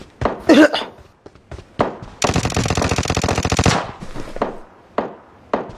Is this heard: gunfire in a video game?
yes